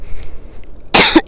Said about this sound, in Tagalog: Yung ubo ko ng 2024, andito pa rin